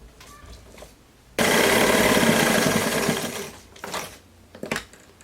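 A sewing machine runs a topstitched seam on a jumpsuit, starting abruptly into a loud, fast, steady whir for about two seconds before slowing. Shorter bursts of stitching follow, with quiet handling in between.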